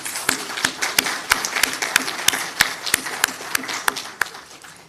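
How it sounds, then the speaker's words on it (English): Sharp, steady handclaps ring out in a regular rhythm over a dense wash of applause at a debate competition, close and fairly loud throughout. "Please give all the teams a round of applause."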